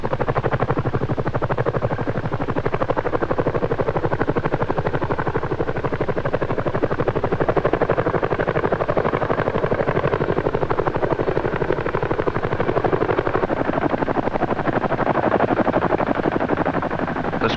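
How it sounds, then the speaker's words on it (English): A CH-47 Chinook twin-rotor helicopter roars loudly and continuously, its rapid blade thumping steady and close for the whole stretch, with no voices. "before the Chinook is brought into the area, be sure to put in your earplugs."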